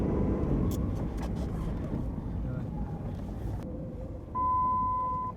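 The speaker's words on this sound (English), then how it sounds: "Definitely spinning up my wheels." A Jeep Liberty's engine drones under strain as its wheels spin on a narrow winter trail with ice and mud, a steady low roar that swells slightly near the end with faint whining tones.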